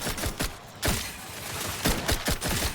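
Gunfire from a weapon in the video game The Outer Worlds 2, a loud, close burst of repeated shots with sharp cracks, a short lull, then more rapid shots.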